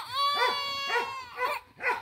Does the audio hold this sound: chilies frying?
no